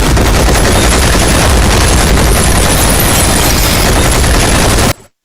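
Dense, loud gunfire in an action scene from the Bangladeshi film Toofan, a continuous barrage of shots and booms filling about five seconds before cutting off abruptly.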